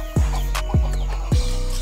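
Three short, sharp clucks from a jungle fowl, evenly spaced and close by, with no talking.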